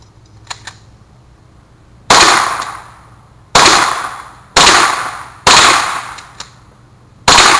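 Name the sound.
rifle shots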